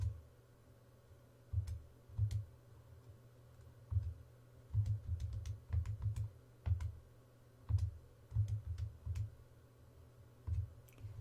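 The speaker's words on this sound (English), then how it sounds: "you can always turn on your calculator, go to your y equals, and we can type in this function" Keys on a graphing calculator are pressed to enter a function, soft scattered clicks in short uneven clusters, close and quiet with no talk.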